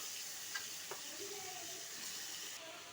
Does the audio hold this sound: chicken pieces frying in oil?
yes